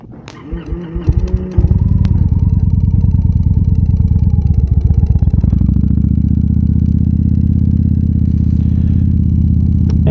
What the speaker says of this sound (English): So I got this motorcycle, which I've wanted a motorcycle for a long time.